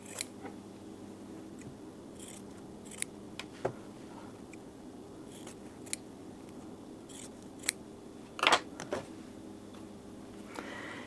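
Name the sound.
scissors trimming quilt fabric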